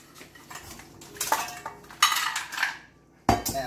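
Drained hard-boiled eggs shaken in a metal pot to crack their shells, several sharp clattering bursts of shells knocking against the pot with brief pauses between, close and distinct.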